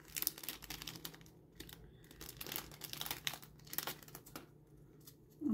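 Plastic parcel packaging from a Temu haul being torn open and crinkled, quiet, close, irregular rustling and crackling bursts with no speech.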